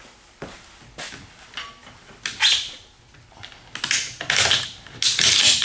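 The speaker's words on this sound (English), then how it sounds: "Ratchet those down nice and secure." Wheel straps on a Yakima Raptor roof bike rack are ratcheted down, giving a series of sharp clicks and ratcheting bursts that grow louder and denser toward the end.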